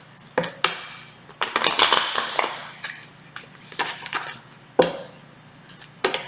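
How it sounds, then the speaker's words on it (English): Tarot cards being shuffled close by in a series of sharp, papery riffles and slaps, irregular bursts separated by brief pauses, with no talking. "One last shuffle."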